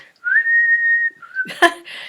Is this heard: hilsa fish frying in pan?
no